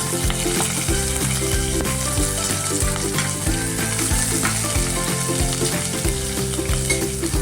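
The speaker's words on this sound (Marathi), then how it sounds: "एका गॅसवर आपण पनीर परतायला ठेवलं." Paneer frying in a pan on a gas stove, a continuous loud sizzle with stirring noises, though strong rhythmic music plays over it throughout.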